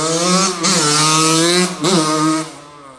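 A 1983 Yamaha YZ80K two-stroke dirt bike engine revs hard twice, buzzing high and rising, dipping briefly between the pulls, loud and close.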